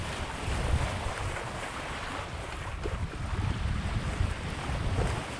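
A Hallberg-Rassy 54 sailboat moves through water at about six knots in a light breeze, a steady wash of water and rushing wind with low buffeting gusts and no talking.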